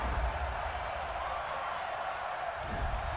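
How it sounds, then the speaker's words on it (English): Football stadium crowd at an NFL NFC Wild Card playoff game between the San Francisco 49ers and New Orleans Saints, reacting to a penalty flag on third down with a steady, sustained roar of disapproval. "this crowd does not like that call"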